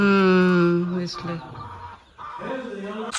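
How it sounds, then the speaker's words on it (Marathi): Chickens and roosters cluck and call nearby in a Konkan village, a drawn-out rising squawk first, then shorter clucks and murmurs trailing off. "कोंबडे त्यांचे"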